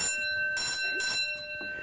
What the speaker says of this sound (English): See, it rings a real alarm.